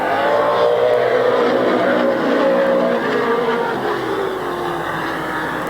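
Stock cars racing at Midvale Speedway in 1994, a steady loud roar of several engines droning around the track, with pitch slowly shifting as cars pass and no clear talk over it.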